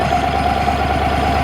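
An Amtex 2545 stack engine idles steadily just after starting, a close, loud, even rumble with a smooth rhythmic pulse and no pauses.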